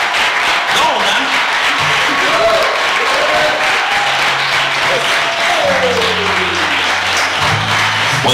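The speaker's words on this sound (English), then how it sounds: "And I want you guys to give a round of applause one more time for my guest, Sanford Greene." A live audience applauds steadily for a guest at a talk event, dense clapping filling the room throughout while a voice speaks over it.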